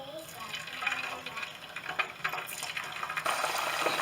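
Marinated chicken pieces frying in hot oil, a steady dense sizzle and crackle with small pops throughout, close and moderately loud, rising slightly toward the end.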